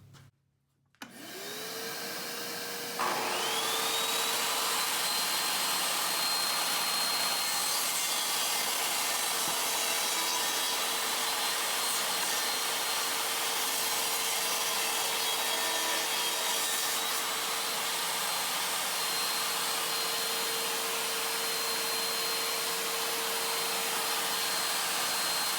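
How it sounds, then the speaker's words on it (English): A table saw and a dust collector run together while wood is cut: after a brief quiet start, both machines spin up to a loud, steady whine with a broad roar that holds for the rest of the clip, with no talk. "we're going to turn the dust collector on and also the table saw, so it's going to be a little noisy for just a minute"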